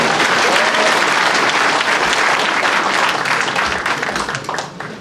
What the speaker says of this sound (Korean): 뒷자리에 앉았지만 힘내라고 박수 한번 다시 보내주시기 바라겠습니다.